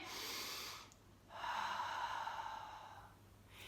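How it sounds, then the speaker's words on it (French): During a facial toning exercise, a person takes a slow, audible breath in through the nose, pauses, then releases a long, steady exhale; close and clear, with no talk. "on inspire et on expire. Une dernière fois, on inspire."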